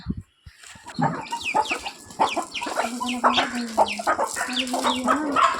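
Chickens, including small chicks, clucking close by in a busy, continuous stream of short calls and chirps, with a steady low murmur beneath.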